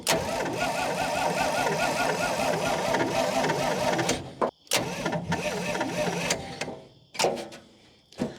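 A truck engine with a sticking idle cranks, fires and runs loudly nearby, then stumbles and cuts out before restarting briefly in short bursts amid faint background noise.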